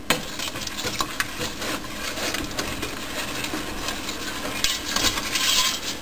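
No-bake cookie mixture stirred in a pan, a continuous close scraping and rubbing of a spoon with light clinks against the metal and a faint sizzle beneath, no talking.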